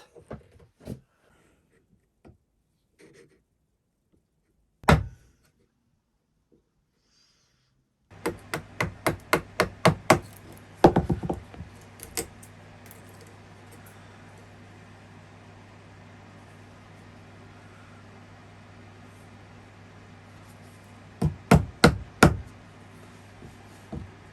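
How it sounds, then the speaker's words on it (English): A wooden mallet knocks a chisel into a scrap of wood in a woodworking shop: a lone sharp knock, then a quick run of loud, close strikes, then a final cluster of whacks over a steady background hum. "Just whacking our chisel, seeing how it performs."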